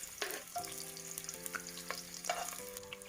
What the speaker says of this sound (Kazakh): аздап сарымсағымызды қуырып аламыз